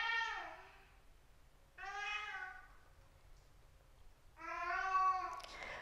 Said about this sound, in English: I'm so sorry that you hear my kitty in the background.